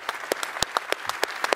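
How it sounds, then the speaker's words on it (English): A conference audience at a game developers event gives a short burst of applause, sparse individual claps sounding fairly close together for under two seconds. "So I think that's worth a round of applause."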